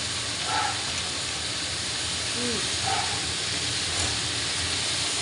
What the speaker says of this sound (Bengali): পেঁয়াজ কলি ভাজছে